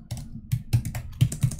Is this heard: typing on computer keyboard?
yes